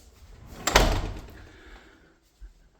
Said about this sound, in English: So we'll go back in through the back door